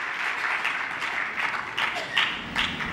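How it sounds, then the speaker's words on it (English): Audience applause at the Infosys Prize ceremony, a continuous patter of many hands clapping in a large hall, fairly loud with a few sharper claps standing out near the end. "give them another big round of applause"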